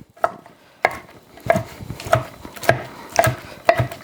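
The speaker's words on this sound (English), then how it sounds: "cutting them down into smaller pieces" A knife cuts smoked chicken into smaller pieces on a board, a series of about eight crisp, evenly spaced chops, close and clear.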